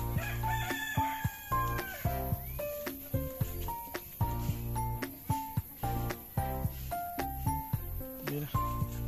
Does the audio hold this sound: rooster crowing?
yes